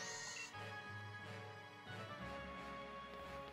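Sheep bleat in the Pokémon Shield video game, a few wavering cries set against steady, tonal game music with no talking.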